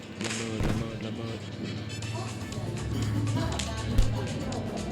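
Several booming bomb blasts and thuds from Stumble Guys game audio go off amid excited shouting, with a sharp louder bang near the end.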